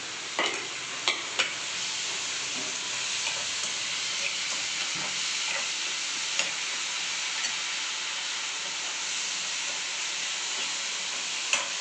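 Steady sizzling of crushed garlic frying in a hot pan, with occasional clicks and scrapes of stirring, fairly quiet and continuous.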